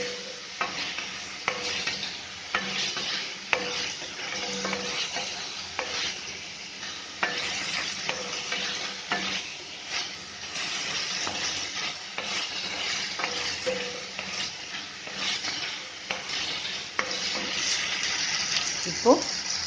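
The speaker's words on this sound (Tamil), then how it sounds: "ஒரு 5 நிமிஷம் இந்த தக்காளி நல்லா வதங்கட்டும்." Tomatoes with turmeric powder sautéing in a pan for drumstick leaf soup, a steady soft sizzle with intermittent stirring scrapes and clinks, fairly close, with a voice speaking at times over the cooking.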